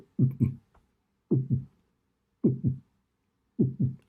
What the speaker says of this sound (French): plein d'effets spéciaux, un battement de cœur